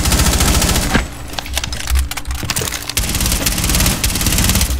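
Rapid automatic gunfire in Rainbow Six Siege, loud sustained bursts with a short lull in the middle before the firing resumes, with splintering impacts among the shots.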